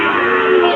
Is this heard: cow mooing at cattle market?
yes